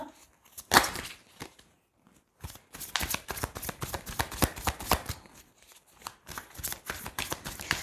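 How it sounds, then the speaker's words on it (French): Tarot cards being shuffled and drawn at close range, with brisk riffling bursts and soft slaps that come in irregular clusters and are broken by short pauses, with no voice over them. "Allez, on va tirer 3 cartes."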